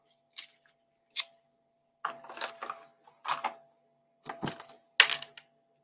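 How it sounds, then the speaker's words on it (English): Scissors snip through ribbon while a handmade card is being trimmed, with six or so short, crisp cuts in an uneven rhythm, close and clear with no talking. "Let me trim this ribbon down."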